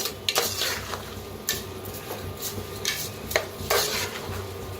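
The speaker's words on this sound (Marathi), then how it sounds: "जरा आता भाजून घेऊया मिठाला, मग मिक्स करूया सगळं" Rice and salt roasting in oil in a pan, stirred with a metal spoon that scrapes and clinks against the pan every second or so over a faint background sizzle, fairly quiet, no speech.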